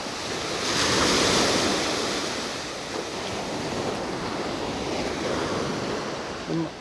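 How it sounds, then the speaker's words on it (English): Rolling ocean waves wash onto a Gulf Coast Florida beach in a broad, continuous roar, swelling and easing, with wind buffeting the microphone. "It's just kind of nice rolling waves."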